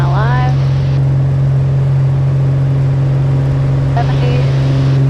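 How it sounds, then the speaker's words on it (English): Fokker 70 jet engines spool to takeoff power, a loud steady drone with a strong low hum and rising whine sweeps near the start and again toward the end, continuous and close. "Power coming up. Engine instruments are in the green. She sounds good, it's what we're expecting."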